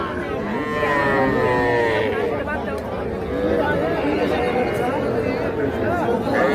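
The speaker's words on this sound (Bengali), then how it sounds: "ষাঁড় বাচ্চা" Bull calves under three months old moo repeatedly, close and loud, over a busy background of crowd chatter and voices at the Ambari livestock market.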